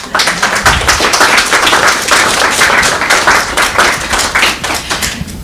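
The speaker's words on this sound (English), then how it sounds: "Oh yeah, another round of applause." Audience applause following a musical performance at a Chinese New Year celebration, loud and close, a dense, steady wash of many hands clapping that holds for the full five seconds before easing slightly at the end.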